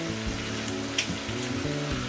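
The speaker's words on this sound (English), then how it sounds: "And you can hear that start to sizzle." Fat renders from sous vide duck breasts in a hot pan on a large hob burner, making a steady crackling sizzle that is close and continuous, with no talk.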